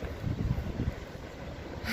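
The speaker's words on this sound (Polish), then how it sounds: "strasznie ten wiatr wieje" Strong wind buffets the microphone outdoors in Aigaleo, Greece, a loud, gusty low roar that swells and eases across the short stretch.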